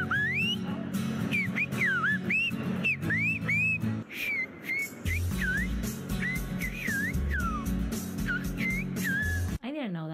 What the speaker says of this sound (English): It's a language completely composed of whistles.